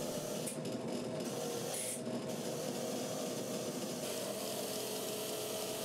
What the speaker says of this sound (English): I get a wire wheel in the drill press and I can clean them up on that